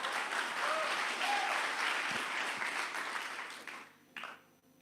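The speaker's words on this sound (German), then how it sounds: "Aber wir wollen am mal Dankeschön sagen und einmal einen Applaus geben." A church congregation applauds steadily at a German service, a dense wash of clapping that holds for about four seconds, then thins and fades, with a brief final burst near the end.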